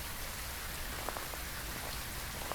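Heavy rain from the horror video game Phasmophobia pours down in a steady, dense hiss with scattered louder drop spatters, moderately quiet and unbroken, no one speaking.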